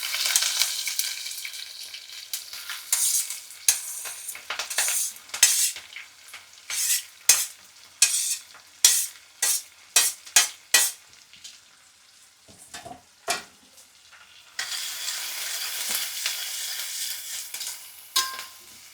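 Onions sizzle in oil with mustard seeds, cumin and chana dal, a bright steady frying hiss broken midway by a quick series of sharp scraping stirs before the sizzle swells back, close and without talk.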